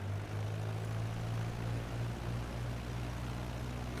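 Steady drone of a propeller aircraft engine in Microsoft Flight Simulator 2020, a loud continuous hum with a strong low tone that holds evenly throughout, with no talk over it.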